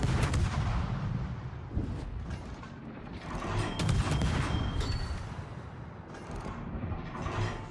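Ship guns firing in World of Warships, heavy rumbling booms and rolling salvos that overlap into a dense, loud barrage with mechanical clanks, continuing throughout.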